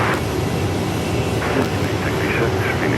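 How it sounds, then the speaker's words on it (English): American Airlines Airbus A320 airliner at Phoenix Sky Harbor, a steady broadband engine roar filling the whole stretch, with radio-style voices talking over it. "Airbus A320."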